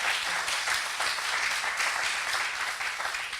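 Audience clapping at an official ESR label award ceremony honouring certified responsible companies, a dense, even wash of many hands at full strength throughout, with no voices over it.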